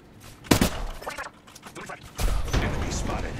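Gunfire in the video game Apex Legends, with a sharp burst followed by sustained rapid shots and impacts, loud and close, mixed with a voice calling out.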